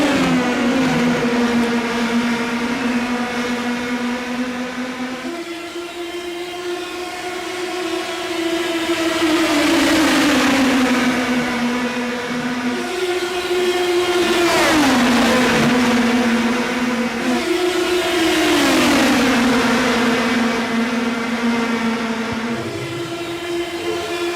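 Open-wheel Indy Pro 2000 race cars in iRacing at World Wide Technology Raceway scream past in a tight nose-to-tail pack, loud, high-pitched engine notes rising and falling through upshifts and Doppler sweeps with no pause.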